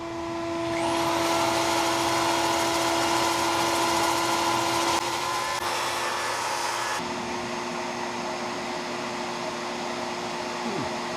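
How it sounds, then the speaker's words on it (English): A shop vacuum used for dust collection roars and howls steadily and close, with a sanding tool whining alongside while sanding a wet, spalted alder wooden bowl; the tone shifts partway through as the machine load changes. "That howling noise is the shop vac I use for dust collection when I'm sanding"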